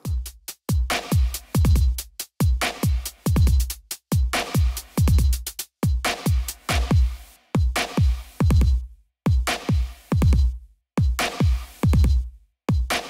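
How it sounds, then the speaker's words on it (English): A drum loop from a custom Ableton Live drum rack built from layered sounds with creative and corrective processing, punchy kicks and crisp hits in a steady, busy repeating groove, loud and up front with no talking. "I built this drum rack earlier with loads of layered sounds and of course some creative and corrective processing"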